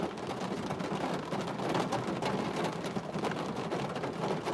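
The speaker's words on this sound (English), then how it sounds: "Enjoy the rain." Steady rain pours down in a dense, continuous hiss of drops striking surfaces, with occasional louder patters, close and even throughout with no talking.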